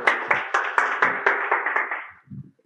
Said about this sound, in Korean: 와, 박수로 한번.